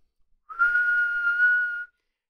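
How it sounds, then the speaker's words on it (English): A single steady whistled tone near 1 kHz, held clear and alone for about a second and a half, demonstrating the frequency that drives a microphone diaphragm. "And so if I whistle 1K"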